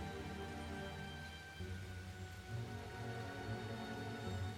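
Rain falls in a fantasy video game realm, a soft, steady patter heard faintly beneath sustained tonal background sounds.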